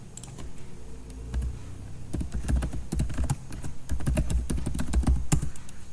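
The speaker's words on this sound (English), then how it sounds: "let me type my email ID here" Rapid typing on a computer keyboard while entering an email ID, irregular clusters of close key clicks that quicken and grow louder toward the end, with no voices.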